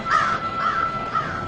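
Several crows cawing nearby, a loud harsh call followed by two or three shorter caws in quick succession, alone with no voices.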